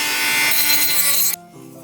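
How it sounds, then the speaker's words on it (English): A Dremel rotary tool grinds rust off a part with a steady high whine for over a second before it is switched off and the motor winds down slowly. "time to go to the Dremel"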